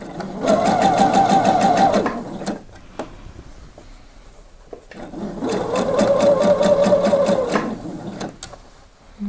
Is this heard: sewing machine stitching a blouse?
yes